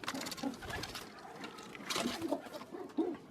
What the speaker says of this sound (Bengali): এটা হলো নর কবুতরটা যেটা বাচ্চা ফুটাইছে